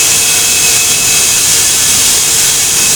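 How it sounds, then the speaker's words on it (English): Steam venting at a thermal power plant, a loud, steady roaring hiss that stays constant and unbroken throughout, with no voices. "Give the command and venting is going on."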